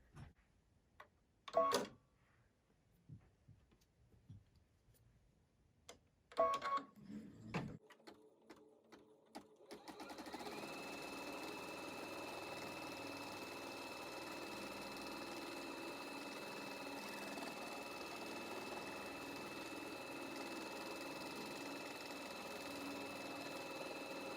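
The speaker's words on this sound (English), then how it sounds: "Let's tack down our fabric and our batting." A Baby Lock Solaris embroidery machine tacks down fabric and batting for a coaster. A few clunks and handling noises come first, then the machine settles into a steady, close, continuous stitching whir that runs to the end.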